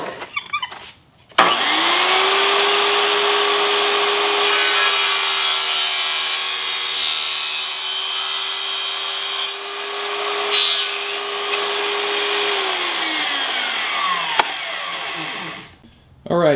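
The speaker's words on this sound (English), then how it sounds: "flip the square over and cut the other side of the profile" A power saw cuts through a Schluter metal tile trim profile to finish a miter, a steady loud whine running for about eleven seconds after a short spin-up, then winding down.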